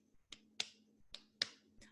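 Five sharp hand claps, close and dry, struck in an uneven short-long pattern to mark out a rhythm.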